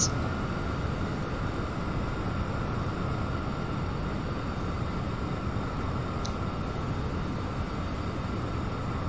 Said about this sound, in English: This is our business jet.